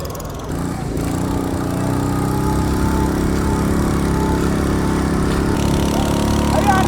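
Engine of a small boat heading to the Nehru Trophy boat race track, a steady close mid-pitched motor drone running continuously at constant level, no clear talking.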